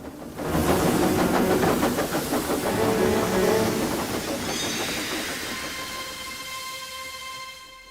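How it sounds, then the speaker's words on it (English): A cartoon steam locomotive pulling a goods train chuffs and hisses loudly as it starts off, heavy rhythmic puffing and clanking wagons fading while a long whistle tone lingers. "With a mighty heave, Edward vanished with the goods train in a cloud of smoke."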